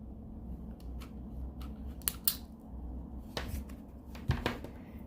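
Several sharp scissor snips cutting a hole in autumn decor material, close up, spaced irregularly over quiet background rustling.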